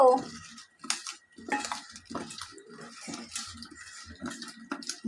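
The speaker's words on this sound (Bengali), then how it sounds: "মরিচের গুঁড়া হালকা একটু লবণ দিয়ে এভাবে মাখিয়ে রাখি" Chili powder and salt being mixed by hand in a bowl in a home kitchen, giving soft irregular scraping, rubbing and light clinks at close range, with a faint voice now and then.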